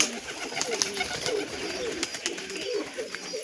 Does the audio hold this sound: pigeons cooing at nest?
yes